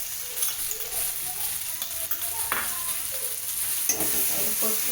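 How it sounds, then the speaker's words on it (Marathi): Cumin, curry leaves and a garlic, coconut and green chilli paste sizzle in hot oil as a tempering for kadhi, a steady close crackle with scattered stirring clinks and no speech. "आपण जिरी मोरी टाकूया फोडणीला कढीपत्ता टाकूया आणि लसूण खोबरं आणि हिरवी मिरचीची पेस्ट केलेली ती टाकूया त्याच्यात"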